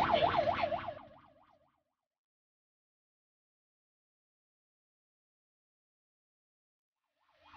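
A Ho Chi Minh City 115 emergency ambulance siren wails in a rapid rising-and-falling yelp, loud at first then fading away into silence before returning faintly at the end.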